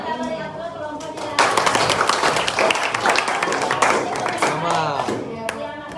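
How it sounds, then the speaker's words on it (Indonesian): Classroom applause for a student group after a science experiment presentation, a burst of many hands clapping that swells suddenly and continues for several seconds, with voices talking before and over it. "Kita beri aplaus kelompoknya."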